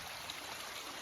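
A Jamaican river flows steadily on an overcast day, a soft continuous rush of water at low level with no other sounds.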